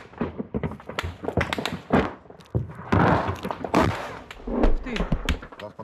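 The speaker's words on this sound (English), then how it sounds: "It's mortar fire at us. Yes, and it's getting closer." Mortar fire explodes around positions held by Ukraine's 47th brigade during a fierce battle, heard as repeated dull thumps and thuds at irregular intervals amid people talking.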